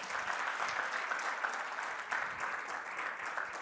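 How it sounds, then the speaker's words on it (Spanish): A church congregation claps for the Lord in sustained, moderately distant applause that holds steady, with many hands blending into a dense patter and no talking over it. "denle un fuerte aplauso al Señor."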